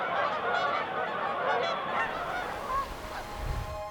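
Canada geese honk repeatedly in a noisy, overlapping chorus, a flock calling at moderate distance with a steady stream of harsh cries.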